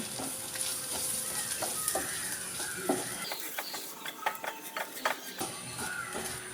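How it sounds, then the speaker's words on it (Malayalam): Kerala toddy-shop style beef fry with coriander powder being stirred in a hot pan, giving a steady close sizzle broken by repeated scraping and clattering spoon strokes. "ഇത് ഇത്രയും ചേർത്ത് നന്നായിട്ട് ഒന്ന് ഇളക്കി കൊടുക്കാം"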